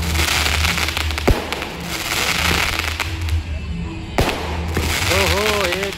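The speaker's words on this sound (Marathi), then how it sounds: "आणि फटाक्यांची आतिषबाजी देखील बघू शकता तुम्ही." Fireworks and firecrackers crackle and pop continuously at a crowded temple festival on Deep Purnima night, with sharp bursts over a dense festive din and voices in the crowd.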